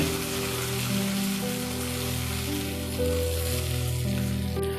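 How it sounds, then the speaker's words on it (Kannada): Masala, onion and tomato for idli sambar are stirred in a pan over a low flame, giving a steady, close sizzle with soft scraping and no talking. "ಸೊ ಈಗ ಲೋ ಫ್ಲೇಮಲ್ಲಿ ಇದನ್ನೆಲ್ಲ ಚೆಂದ ಮಿಕ್ಸ್ ಮಾಡುವ, ಒಂದಕ್ಕೊಂದು ಹೊಂದ್ಕೊಳ್ಳೋ ಹಾಗೆ."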